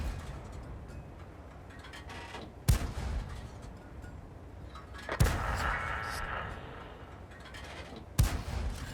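Three heavy tank cannon shots from an M10 RBFM in a tank battle video game, each a sharp loud boom with a rumbling tail, spaced a few seconds apart over steady engine and battlefield rumble.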